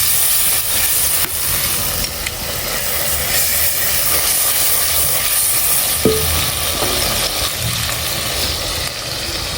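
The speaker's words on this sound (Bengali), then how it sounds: "লবণ, হলুদ, লঙ্কার গুঁড়ো দিয়ে মাছটাকে ভালো করে ভেজে নিব।" Fish seasoned with salt, turmeric and chilli powder fries in hot oil, giving a steady, close, loud sizzle and hiss throughout with occasional faint clinks of a utensil, and no voices.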